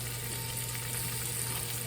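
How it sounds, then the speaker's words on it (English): Thinly sliced halved onions sizzle in hot olive oil in a pan, a steady broadband crackle and hiss that stays even and close throughout with no voices. "we're just gonna go ahead and put our onions in there"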